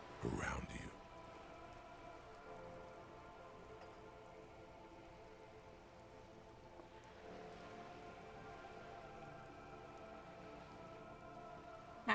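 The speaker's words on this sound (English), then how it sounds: "All around you, rain keeps falling down." Steady rain patters onto wooden boards and open water in Disco Elysium, a soft continuous hiss running throughout, with a brief burst of louder sound at the start and low background tones beneath.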